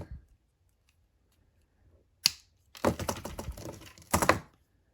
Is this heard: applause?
no